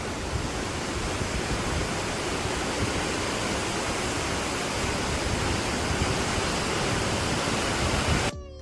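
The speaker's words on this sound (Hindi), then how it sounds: "वो देखिए वहाँ से झरना गिर रहा है" A waterfall in Partnach Gorge, Bavaria, roars as a dense, steady rush of falling water, loud and unbroken, cutting off abruptly at the end.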